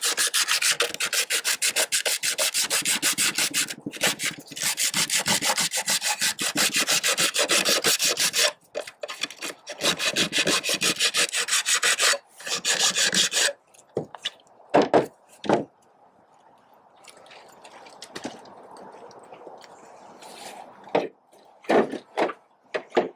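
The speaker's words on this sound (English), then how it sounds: "Sand the end cap real good." A fiberglass gutter end cap is sanded on its inside in long, rough, continuous rasping strokes, loud and close, then broken into shorter scrapes and pauses toward the end.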